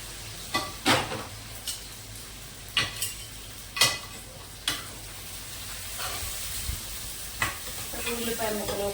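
Green chillies fry in hot oil ahead of onions and garlic for a cluster bean curry, a soft continuous sizzle punctuated by sharp spatters and pops at irregular intervals.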